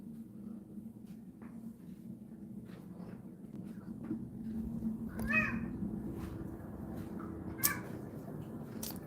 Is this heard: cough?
no